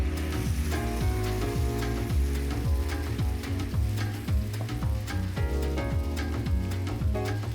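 Maryland-style jumbo lump crab cakes, still slightly wet, fry in a hot pan with a steady, loud sizzle running continuously alongside a repeating low rhythmic thumping.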